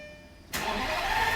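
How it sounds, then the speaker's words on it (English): A cheap Lamborghini's engine cranks and fires after a quiet pause, then settles into a loud, steady idle close by. "now if I turn the car on"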